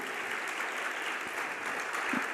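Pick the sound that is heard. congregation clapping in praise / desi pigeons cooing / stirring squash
congregation clapping in praise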